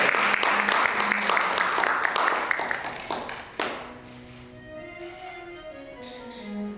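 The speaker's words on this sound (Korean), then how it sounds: "박수 부탁드립니다." Applause from the audience at a student reporter graduation ceremony, a dense patter of many hands that thins out after a few seconds, followed by a voice talking at moderate distance.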